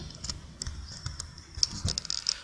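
Keys tapped on a computer keyboard, including the shift key, while working in Illustrator: a scattering of light, sharp clicks at uneven intervals, quiet and close, with no talk.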